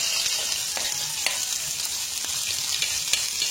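Asafoetida crackles and sizzles in hot oil while tempering is prepared for fenugreek chutney, a steady close frying hiss with small pops and occasional stirring, and no voices.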